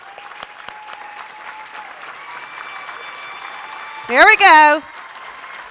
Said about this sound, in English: I would just like to ask each of you to stand so that we can clap and honor and celebrate each of you one more time